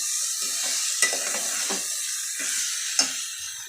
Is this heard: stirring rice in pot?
yes